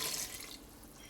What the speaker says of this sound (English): we'll pour our liquid in